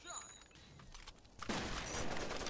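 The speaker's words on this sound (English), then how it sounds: "Someone's firing machine gun." Machine gun fire in the video game Rainbow Six: Vegas 2, faint scattered shots at first, then a louder sustained burst of automatic fire in the second half.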